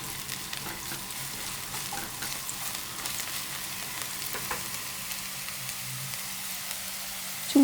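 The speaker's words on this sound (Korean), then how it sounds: "대파의 흰 부분을 약한 불에서 볶아줍니다" White parts of green onion fry gently in olive oil over low heat, giving a soft, even, close sizzle with faint stirring and no voices.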